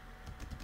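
Quick, faint keystrokes on a computer keyboard while entering accounting data, a short run of four or five soft clicks close to the microphone.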